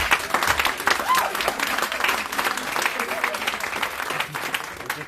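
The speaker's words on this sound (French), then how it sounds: "Est-ce que tu peux acclamer encore Jésus tout simplement?" A church congregation applauds and cheers for Jesus during a French-language service, dense sustained clapping filling the room with voices mixed into the crowd noise throughout.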